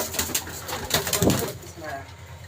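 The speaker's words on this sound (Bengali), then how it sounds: "এটা হলো চীনা কবুতর" Chinese pigeon in an imported pigeon loft, giving soft cooing calls amid other birds and low loft noise, with some voice in the background.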